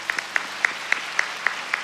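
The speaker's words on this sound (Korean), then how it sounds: "뜨거운 박수 부탁드립니다" Clapping in a church congregation during a service appointing deaconesses at Yeouido Full Gospel Bundang Church's anniversary: sharp, evenly spaced claps, roughly four per second, stand out over a faint wash of softer applause.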